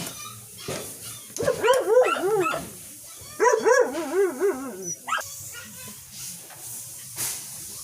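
Dogs and puppies yip and bark in high, whining bursts, two clusters close by, followed by quieter scattered sounds.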